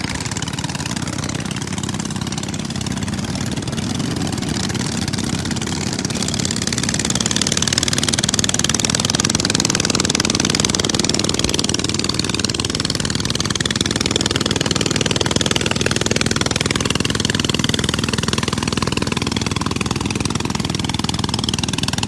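Klotok, a traditional wooden river motorboat, runs its engine steadily on floodwaters in Central Kalimantan, a continuous mid-pitched drone with a slight swell partway through and no talking.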